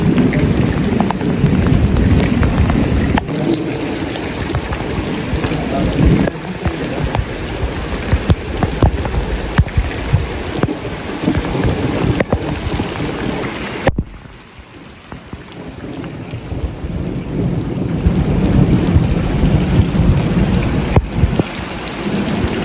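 Heavy village rain pours in a dense, steady hiss with the deep rolling rumble of a thunderstorm underneath, loud and close throughout, dropping briefly quieter partway before the downpour swells again.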